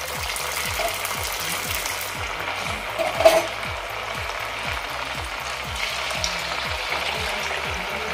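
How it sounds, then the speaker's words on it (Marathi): Sabudana french fries fry in hot oil with a low continuous sizzle, joined by a steady mechanical ticking hum nearby and a single brief clink midway. "इथे मी सर्व फ्रेंच फ्राईज फ्राय करून घेते"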